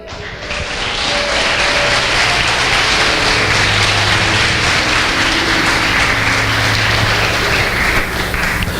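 A church congregation applauds in dense, sustained clapping that stays loud for several seconds, with music playing underneath.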